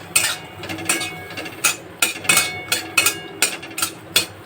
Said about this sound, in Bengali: দেখো এবার আমি এইটাকেও নেড়ে নেব